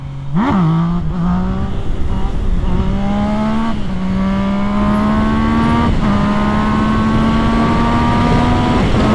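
A race bike's engine revs hard and loud through a wheelie, its pitch climbing in a sustained close-up roar with a few brief dips and surges.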